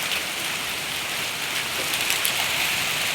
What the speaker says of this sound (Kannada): ಇಲ್ಲೆಲ್ಲ ಕಾಣ್ತಿರ್ಬೋದು ಫುಲ್ ಆನಿಕಲ್ ಮಳಿ.